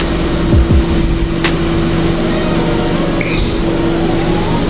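A new car idles with a steady low engine hum, ready to pull away on a tour with a first-time driver at the wheel. A few brief low rumbles and a faint high squeak sit over the constant drone.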